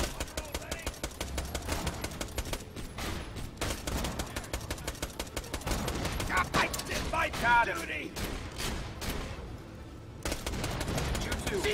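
Rapid automatic gunfire from a gun in the video game Borderlands: The Pre-Sequel, dense and continuous over game sounds and effects.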